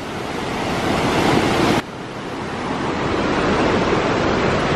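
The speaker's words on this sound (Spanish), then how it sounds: "Aquí hay un río abajo." Loud, steady rushing water of a river flowing below, near a cave, a broadband roar with a brief dip partway through, no voices over it.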